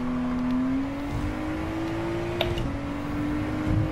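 A Ford GT engine under throttle in the video game Gran Turismo 7 gives a steady, rising drone with a clear tonal whine, held evenly for several seconds with a brief click partway through.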